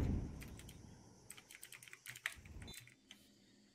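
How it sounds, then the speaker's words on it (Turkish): Computer keyboard keys clatter over a gamer's microphone in quick, uneven bursts of sharp clicks, fairly close and alone, with a low rumble at the start. "Mika çok klavye geliyor bu arada"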